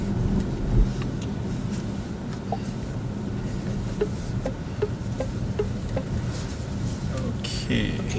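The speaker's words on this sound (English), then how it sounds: "you can feel the sound of the car, even though it's artificial being piped into the car" An artificial sports-car engine sound piped into a car cabin in comfort mode forms a low, steady hum and rumble throughout, with faint ticks above it and occasional voices talking.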